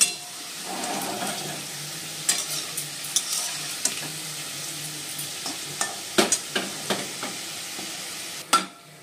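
Steady sizzling of long beans and pointed gourd frying in a pan, with sharp clinks and scrapes of a utensil stirring at intervals, close and fairly loud.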